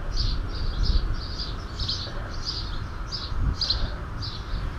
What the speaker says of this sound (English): Got a little sparrow right there